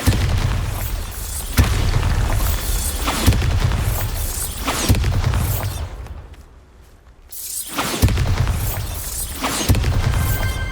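Bombarda blasting spell from Hogwarts Legacy bursting in a run of heavy, booming explosions, roughly every second or two, each with a crashing, debris-like tail and a brief lull midway.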